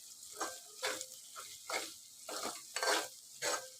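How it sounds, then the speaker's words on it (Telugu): Minced keema is stirred in oil in a pan, giving rhythmic scraping, sizzling strokes about every half second, close and fairly clear, with no voices. "ఇప్పుడు ఒకసారి కలుపుకుందాము కీమాని."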